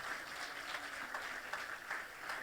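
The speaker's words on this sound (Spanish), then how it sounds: "Dale ese aplauso fuerte al Señor." A church congregation claps in steady, fairly faint applause at a religious service, a continuous wash of hand claps with no speech over it.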